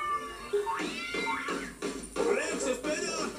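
A cartoon cat meows several times in quick succession, with rising and falling cries that sound close and clear, and a short spoken word comes in between them.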